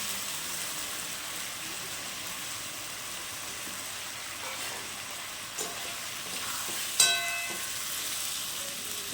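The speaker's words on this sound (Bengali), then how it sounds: "পেঁয়াজটা লাল লাল করে ভাজা হবে" Onion, garlic, ginger and chili fry in a pan with a soft, steady sizzle. A couple of light utensil clinks stand out near the end.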